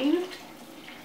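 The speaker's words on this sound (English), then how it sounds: "I'm going to add my water, once again, adding it to the max line" Water pours into a Nutribullet smoothie cup up to the max line, a short close splash and gurgle whose pitch rises briefly at the start and then settles into a softer trickle.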